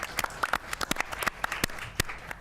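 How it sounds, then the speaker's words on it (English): Scattered audience applause at a sports media discussion event, a thinner crowd clapping with distinct individual claps popping out irregularly over a softer bed of hands, fairly close. "Big round of applause for Mr."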